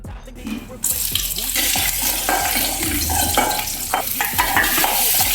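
Spices and curry leaves sizzle and crackle in a hot pan while being stirred, with a burst of frying as something is added, and occasional utensil scrapes.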